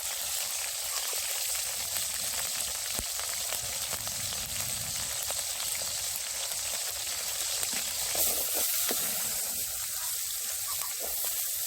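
Mustard seeds splutter in hot oil in a pan, making a continuous faint crackling sizzle with scattered tiny pops throughout, alone with no voices.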